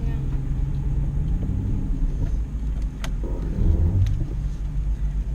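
An Aston Martin drives with a low, steady engine rumble from inside the cabin, the tone shifting slightly as the automatic gearbox changes gear, with people talking over it.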